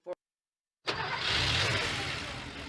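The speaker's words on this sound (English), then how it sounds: "That's the sound of an engine running on the strength of Castrol Edge." After a short click and a pause, a car engine starts up and keeps running with a steady, close, rumbling drone.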